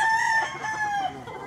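A Hatch gold gamefowl rooster crows once, close and loud, a single sustained cock-a-doodle-doo with a few faint clucks in the background.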